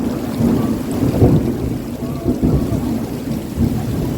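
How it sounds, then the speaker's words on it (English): A thunderstorm with steady heavy rain and deep rumbling thunder rolling through, loud and close, with no voices. "the storm come down"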